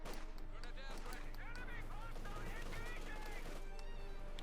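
Machine gun fire in the WWII strategy game Company of Heroes 2 as a Cromwell tank attacks a position, a dense, steady clatter of battle sounds at low level under continuous commentary.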